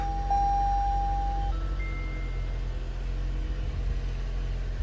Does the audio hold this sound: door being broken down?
no